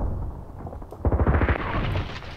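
In-game grenade blast from the shooter Contract Wars: a sudden loud boom near the middle, bursting out of low game noise and rumbling briefly before settling back into a steady background din.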